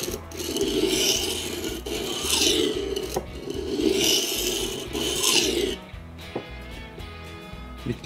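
A Horl roll sharpener rasps along a knife blade during a coarse first grind, in three long, even grinding passes at close range, followed by quieter scattered clicks and scrapes.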